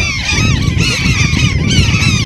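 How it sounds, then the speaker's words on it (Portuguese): Mother gulls circle overhead at an Amazon river beach where turtles nest, giving loud, harsh, continuous cries in overlapping bursts with no pause. "Dos céus, os gritos das mamães gaivotas"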